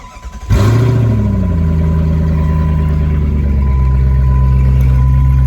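A stock Jeep engine with its catalytic converter stolen cranks and roars to life, revving briefly before dropping into a loud, raspy, rumbling idle very close by.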